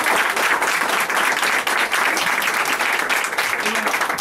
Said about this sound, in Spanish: hemos tenido un fuerte aplauso a nuestro director, el señor Edgar Rodríguez